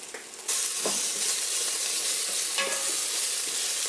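Smashed whole garlic cloves fry in a pan as the base for a Filipino salmon head soup. A loud, steady hiss and sizzle breaks out suddenly and holds close, with a faint clink of stirring partway through.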